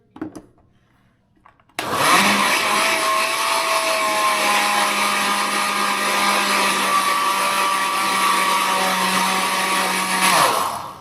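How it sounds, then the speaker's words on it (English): A grinder running on a herbal mixture for joint pain starts up after a short quiet moment and then whirs with a loud, steady, high-pitched motor drone for about eight seconds before cutting off. "Grind it one more time."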